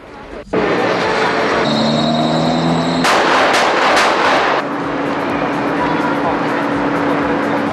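A rapid burst of gunfire from a Thai action film scene, fired at the hero from inside a car. It sounds loud and dense for about a second and a half, surrounded by voices and tonal background sound.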